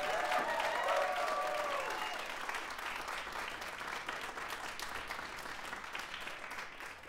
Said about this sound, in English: Can we give one more round of applause to all the performers for that whole shebang?